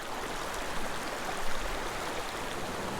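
Water rushing over a small waterfall on a mountain creek, a steady close broadband wash with no voices.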